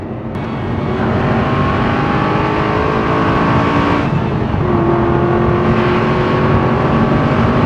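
An Aston Martin V8 Vantage Roadster driving on a road in the Vercors, its V8 engine droning loud and steady throughout with a brief rise in pitch, close and continuous with no talk.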